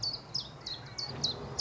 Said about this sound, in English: Indeed, there is the chiff-chaff.